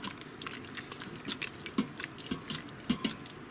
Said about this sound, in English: So now, let's go ahead and stir it all up.